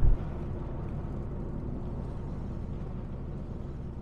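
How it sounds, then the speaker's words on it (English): Rover V8 car back on the road after sitting 12 years, rusty brake discs rubbing at around 40 to 60 km/h, heard as a steady, dense rumble of road and mechanical noise that holds level throughout. "it does sound like, you know, rusty discs when a car's been sitting out in the rain for a bit"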